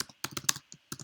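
Computer keyboard typed in a quick burst of about eight crisp, close key clicks, with short pauses between small clusters, naming a project folder.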